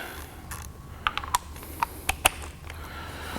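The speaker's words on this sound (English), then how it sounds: "Psyched I finally get to use my new fancy snap-on torque wrench. These are 24 millimeter bolts." A Snap-on torque wrench tightening 24 mm anchor bolts on a two-post lift being fixed to a floor, a few sharp metallic ratchet clicks and taps in a loose sequence over a low room hum, no talk.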